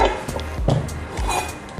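A knife cutting a pumpkin in half gives a few dull, close thuds against a board with light clinks between them, and no voices.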